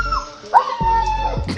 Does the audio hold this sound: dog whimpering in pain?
yes